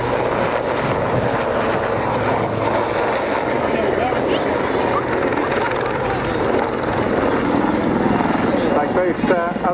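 Loud Lynx helicopter rotor thudding and turbine whine throughout, shifting in pitch as it manoeuvres nearby during an air show display at Waddington, 2013.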